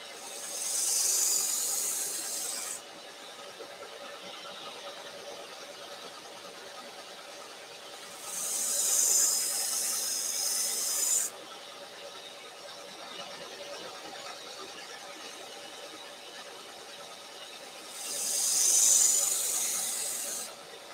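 Three rasping, hissing strokes of a Spyderco Paramilitary 2 knife blade drawn across a sharpening stone, each lasting a few seconds with quiet gaps between, close and moderately loud against a faint steady hum.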